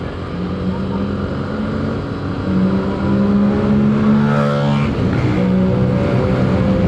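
A Yamaha Mio Gravis v2 scooter revs and accelerates on a ride test, its engine drone climbing steadily and growing louder, with rising pitch sweeps near the end as the speed builds.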